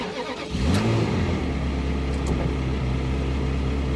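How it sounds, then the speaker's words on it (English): A Ferrari 360 engine cranks and fires up after a cam timing belt service, rising in a sharp rev before settling into a loud, steady idle close by. "I'm going to fire over the engine."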